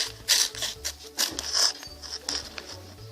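Scissors cut out a large paper circle, producing close, irregular snipping and crisp paper rustling in short bursts, with no talking.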